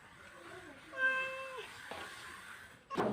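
A cat meows in a home garden among banana, lemon and aloe vera plants, a drawn-out, faint, somewhat distant cry with a second, shorter call after it, followed by a brief sharp noise at the end.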